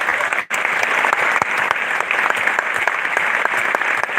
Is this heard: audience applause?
yes